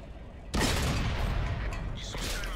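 A loud cannon blast from a Pz.Kpfw.IV Ausf. D tank in the game World of Tanks booms out suddenly and then rolls into a sustained rumbling echo, while a voice talks briefly underneath.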